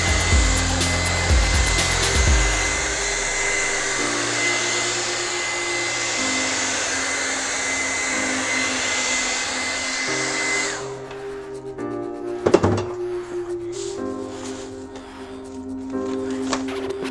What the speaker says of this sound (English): my hair dryer here just to set some of the blue